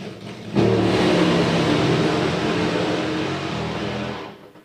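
Drag racing motorcycles, including a three-cylinder top fuel bike, roar down the track at full throttle in a loud, sustained engine blast that builds sharply and holds steady before fading away at the end.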